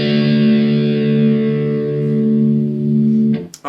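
An electric guitar's open low string, tuned to drop D, rings as a single sustained, slightly distorted note with steady overtones. It fades gently, then is cut off by a few short scrapes near the end.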